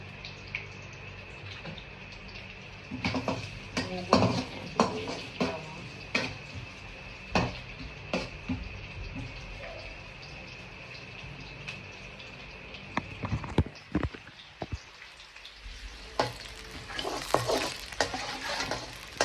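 Onion and garlic sauté in a pan with a constant crackling sizzle, broken by frequent sharp spatula knocks and scrapes against the metal, close up and without speech.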